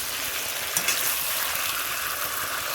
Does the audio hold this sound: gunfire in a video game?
no